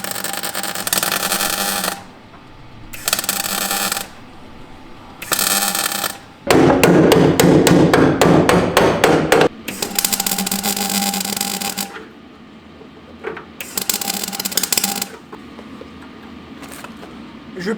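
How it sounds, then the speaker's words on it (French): A hammer taps sheet metal on a car body being shaped, in loud bursts of rapid metallic strikes separated by pauses, with one dense, rattling run of quick blows in the middle. "je pointe, je tape au marteau pour essayer de former un peu"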